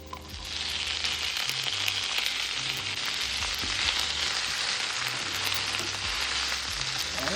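Beans fry in a pan for Haitian djon djon black rice, a loud, continuous crackling sizzle over quiet background music, with no talking.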